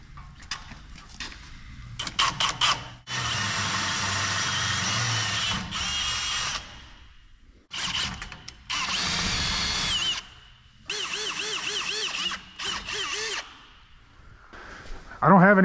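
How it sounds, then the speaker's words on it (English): Power drill boring holes for pins in a shop fabrication project, running in several bursts of varying length, some long and steady, others short, with brief pauses between them and no talk over it. "And to drill these holes for the pins."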